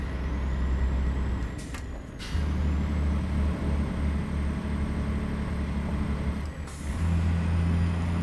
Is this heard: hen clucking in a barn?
no